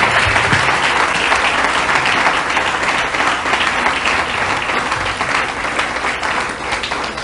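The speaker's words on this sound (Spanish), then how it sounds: "lo recibimos aquí en el auditorio con un lindo aplauso de alabanza al Señor y bienvenida para predicar." An audience in a church auditorium applauds steadily to welcome a preacher, a dense, sustained clapping that stays loud and close for the whole stretch with no talking over it.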